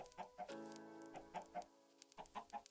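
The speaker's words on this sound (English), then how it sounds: "Because I don't want to constantly hear the clucking." Chickens cluck in the game Minecraft, several bursts of short clipped clucks in quick groups of three with brief pauses between, close and fairly clear, with no talking.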